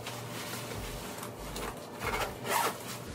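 A full-body zip-up winter jacket is zipped with a steady, close, raspy zipper sound that rises and scrapes for a few seconds, growing louder near the end.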